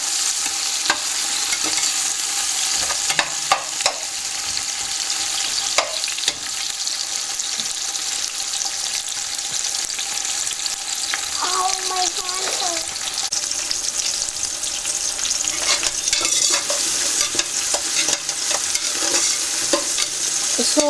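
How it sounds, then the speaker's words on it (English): Thinly sliced onions sauteing in a pan for a meat curry, a loud, even, constant sizzle with occasional stirring scrapes and clinks, nobody speaking. "So you keep sauteing until the color changes into golden brown."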